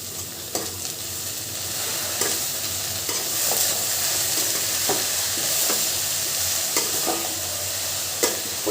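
Greens (kolai shak) stirred as they fry in a pan with browned onions, a steady close sizzle broken by repeated scraping stirs of the spoon.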